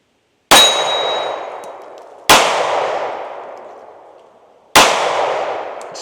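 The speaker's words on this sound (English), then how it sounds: "We're gonna shoot it right-handed." A Smith & Wesson Shield pistol fires three loud, sharp shots, shot right-handed from a 13-round magazine. The shots come about two seconds apart, and each one rings out in a long, fading echo.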